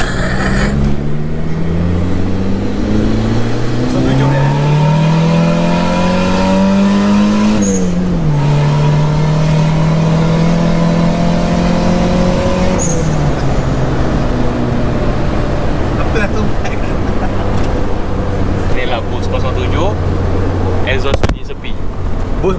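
A Proton Wira Turbo engine with S-Flow muffler drones and revs steadily with rising and falling pitch, loud and continuous, with a sharp hiss or pop from the wastegate now and then.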